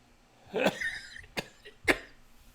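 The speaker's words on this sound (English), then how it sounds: "There was a cough for no damn reason" A few sharp coughs, one harsh burst followed by two shorter ones spaced apart, close and fairly loud against a quiet room.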